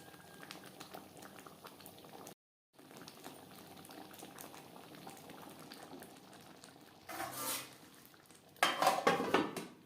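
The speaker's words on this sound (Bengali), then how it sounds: "4-5 মিনিট হাই টু মিডিয়াম ফ্লেমে বেশ ভালো করে ফুটিয়ে নিয়েছি।" Ghugni, a dried pea curry, simmering in a pot over a high to medium gas flame, quiet close bubbling followed by louder clinks and scrapes of a spoon against the pot near the end.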